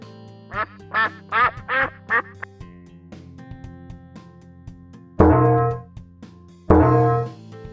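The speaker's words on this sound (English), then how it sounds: "Duck." Cartoonish duck quacks from a toddler farm-animal sound game, five quick rhythmic quacks in a burst, then two louder, longer quacks after a pause, close and clear with a faint musical bed beneath.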